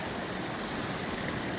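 Creek water rushing steadily along the Oregon Coast Trail at a stream crossing, a continuous broadband wash of flowing water, close and moderately loud, with no voices.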